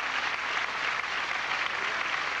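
A large arena crowd at the 1992 Japan Open badminton final applauds after a long rally, a dense, even wash of clapping that carries on at full strength throughout.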